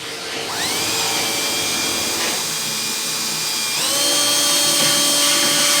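A power drill on its low setting bores out rivets on a Honda Civic door panel, its steady whine rising in pitch as it spins up and again near the end, loud, close and continuous with no talking.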